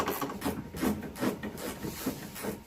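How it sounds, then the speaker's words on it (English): Removing T20 Torx screws from interior trim on a Pontiac GTO (Holden) during a backup camera install, heard as close, repeated whirring, grinding bursts of a driver at a steady rhythm. "Once those are out, I switch to my T20. That's for these screws right here."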